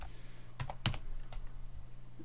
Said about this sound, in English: That's just to let you know how I can type so quickly.